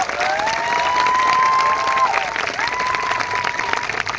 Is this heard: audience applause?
yes